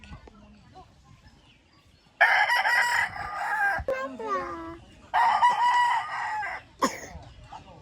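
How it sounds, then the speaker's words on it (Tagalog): A rooster in rural Pangasinan crows twice, loud and close, each call a long wavering cock-a-doodle-doo, with softer clucks and brief voices talking between the crows. "Manok to. Manok."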